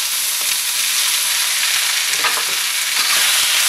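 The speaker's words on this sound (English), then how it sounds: "we're going to take all of our tofu and we're going to slowly in bits put it" Pieces of tofu fry in a hot wok with a loud, steady, dense sizzle that runs unbroken, with faint stirring scrapes throughout and no voices.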